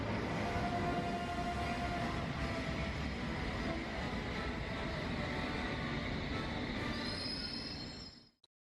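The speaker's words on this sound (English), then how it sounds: "We're going to ride the tube" A London Underground tube train runs with a loud, steady rumble and rattle. A thin high squeal of wheels or brakes rises near the end before the sound cuts off abruptly.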